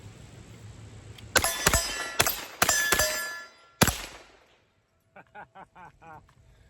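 Several loud gunshots from a Hi Point 3095 carbine chambered in 30 Super Carry, fired in a quick irregular string with sharp reports and ringing tails, followed by faint metallic clinks after the shooting stops.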